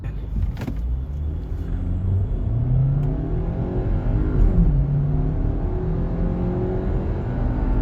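A 2023-2024 Audi Q3 compact SUV accelerating at full throttle, with a steady engine drone and a rising, whirring pull as the revs climb, loud and continuous with a faint click near the start.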